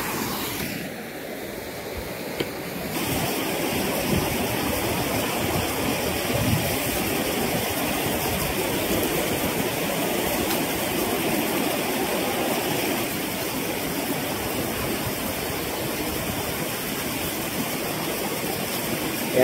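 Water pours over a weir on a stream in a broad, constant roar that stays loud and close without a break.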